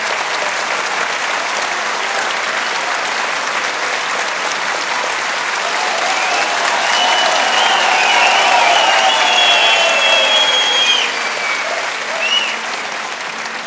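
An audience applauds a mayor of Nilüfer for a long stretch, dense, loud and steady clapping that swells slightly partway through and then eases.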